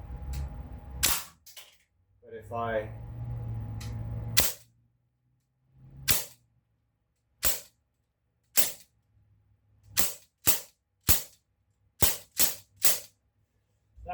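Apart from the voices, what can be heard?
Sig Sauer MCX gen 2 airgun firing double taps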